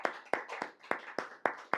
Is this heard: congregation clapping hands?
yes